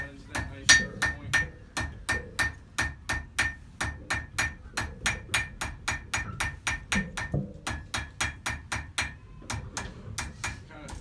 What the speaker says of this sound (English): We'll take our hammer here and just by tapping and turning, we'll taper that right on down into that nice sharp point.